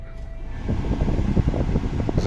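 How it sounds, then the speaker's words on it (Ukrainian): Air conditioning in a 2011 Mazda 5 1.6 diesel starts up as the compressor engages, turning into a steady, fairly loud rushing blow of air from the vents, close and with no talk. "одразу холодом дує, чуть як включається компресор"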